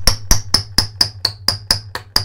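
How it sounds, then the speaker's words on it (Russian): Hammer knocking on a hard surface: ten sharp, ringing metallic strikes in a steady, quick rhythm, close and loud with no talk. "я хочу молотком постучать"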